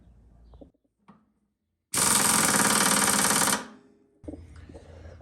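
A power tool, likely an impact wrench, tightens front suspension parts on a 1964 Chevelle chassis in one loud burst of rapid hammering lasting under two seconds, set between quieter clanks and handling noises.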